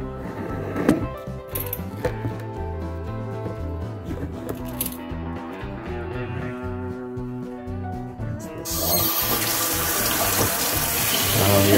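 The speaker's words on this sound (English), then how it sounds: "So now I'll take the camera over here and we will rinse. We will rinse our" Terrarium gravel rinsed under a running tap, water splashing and gravel rattling and shifting in a container, with the flow turning louder and fuller toward the end; no speech.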